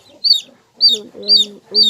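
Chickens cluck in short, repeated bursts near a heat lamp in a brooder, four close clucks spaced evenly, each with a bright high edge over a lower throaty tone.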